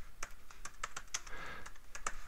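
Quick, light keystrokes clatter on a computer keyboard in an irregular burst of typing, close and fairly quiet, as a photo name is retyped in lowercase.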